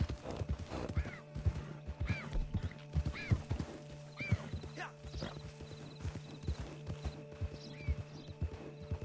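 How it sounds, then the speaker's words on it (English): Horse hooves clip-clop at an easy walk in Red Dead Redemption 2, with occasional whinnies and a person talking over the steady rhythmic steps. "Don't want to tire the horse out too much."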